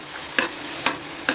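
Garlic and onion sauté in a pan with a steady sizzle, broken by three sharp stirring scrapes at even intervals, close and without talk.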